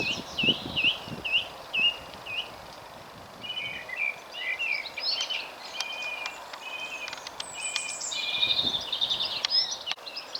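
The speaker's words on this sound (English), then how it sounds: "Lovely bit of bird song through there." Birds sing and chirp in short repeated phrases along a countryside footpath in Hampshire, moderately near over a soft outdoor background with faint rustling.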